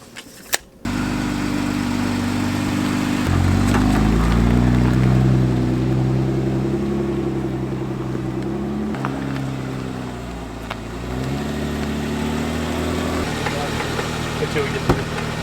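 A Jeep JK engine runs steadily through a test drive with a low, continuous drone and rumble that holds fairly loud and shifts slightly in pitch as the vehicle moves.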